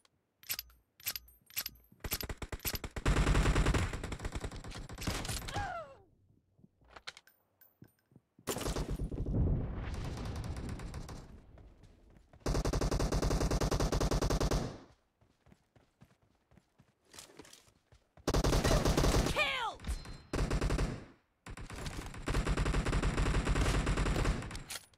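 Gunfire rings out in a PUBG Mobile team deathmatch, with loud automatic bursts lasting several seconds each and separated by quieter gaps holding single shots and clicks.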